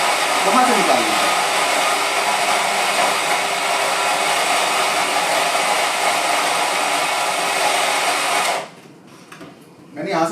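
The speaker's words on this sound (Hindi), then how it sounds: "ये कॉफी ग्राइंड होके बाहर निकल रहा है" An electric grinder on an Astoria coffee machine grinds coffee beans with a loud, steady high whine that runs continuously for about eight seconds, then cuts off abruptly and briefly restarts.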